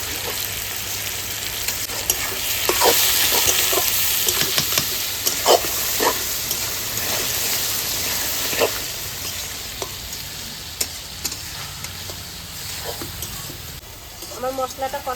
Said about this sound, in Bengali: কষানো হয়ে গেছে টমেটো আর পেঁয়াজ ভাজা ভাজা হয়ে গেছে